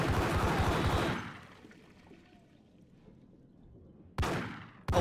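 Gunfire in the Max Payne video game: a dense, loud burst of shots opens the scene and cuts off, followed by near quiet, then two more sharp bangs near the end.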